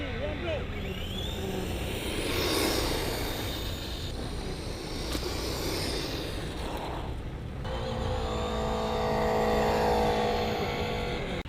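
A stock Traxxas Slash hobby-grade RC car runs at speed outdoors, giving a steady whining motor buzz with gravelly tyre rumble. It stays loud and continuous throughout, with a shift in tone near the end.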